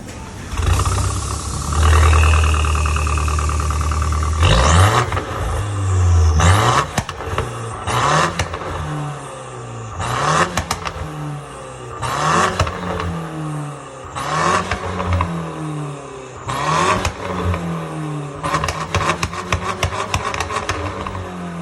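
An Alfa Romeo Giulietta 1.4 with an active Akrapovic Varex exhaust revs repeatedly outdoors, loud and close, its engine note climbing and falling in a series of throttle blips with short idle gaps between them.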